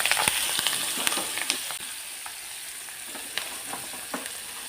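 Finely cut green chillies sautéing in a pan on a very low gas flame, a steady close sizzle broken by several sharp spatula taps early on that thin out later, with no voices.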